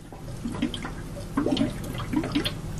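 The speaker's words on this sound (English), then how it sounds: "Alright, we've got water in the cooler, in the radiator. Always have a little gurgle." Water gurgling in a car radiator as it is filled, a few short bubbling glugs in bursts over a soft running-water background, close by.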